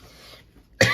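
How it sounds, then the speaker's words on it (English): A single sharp cough bursts out near the end, loud and close, after a quiet stretch of faint room tone during a scrapbooking workshop. "I could tell I was going to cough more than once there"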